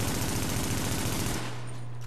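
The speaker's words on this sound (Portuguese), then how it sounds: "Vou atirar sem recuperar o recoil." Rapid automatic gunfire from a high-end weapon in the video game The Division, a dense loud burst of shots that stops abruptly, leaving a brief low hum.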